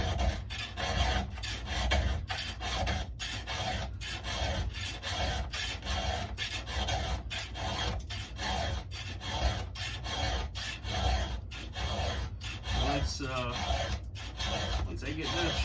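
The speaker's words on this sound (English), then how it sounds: "Once I get done sharpening up the chain" A Stihl MS 441 chainsaw chain being sharpened with a hand file, a rapid run of rhythmic rasping strokes close by, steady and even across the whole stretch, no talk.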